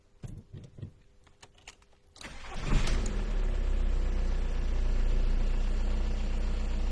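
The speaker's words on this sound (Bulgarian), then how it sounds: "След което колата се пали." A car engine cranks and catches after some light clicks and rattles, then settles into a steady, loud idle that continues to the end.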